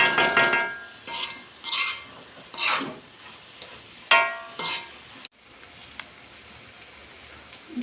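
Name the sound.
onions frying and being stirred in a pan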